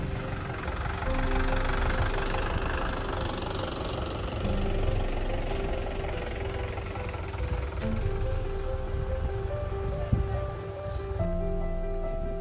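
A tractor engine runs at a steady low idle out in farm fields beside a sugarcane crop, a continuous mid-level rumble with faint knocking, heard alone without voices.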